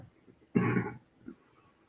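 A single short, harsh cough-like burst from a man, close by, followed by a brief faint throat sound in a quiet room.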